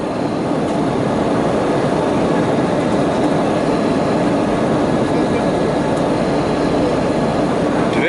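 Passenger airplane speeding down the runway on its takeoff roll at a seaside airport, a loud, steady cabin roar of jet engines and rolling wheels with no letup.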